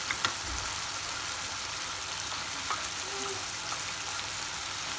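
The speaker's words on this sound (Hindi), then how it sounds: "अब हम इसमें वेजीज ऐड कर देंगे, उबाले हुए गोभी, मटर, आलू।" Boiled cauliflower, peas and potatoes tipped into a pan of buttery cooked tomatoes for Mumbai-style pav bhaji, giving a steady, close, hissing sizzle that runs evenly throughout with no talking.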